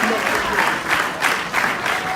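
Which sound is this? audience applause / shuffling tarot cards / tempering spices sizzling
audience applause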